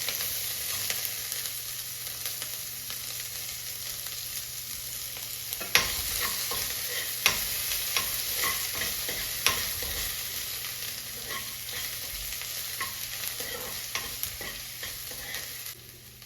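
Green chili and ginger fry in a pan with a continuous crackling sizzle, broken by a few sharp stirring clinks against the metal, and no one speaks.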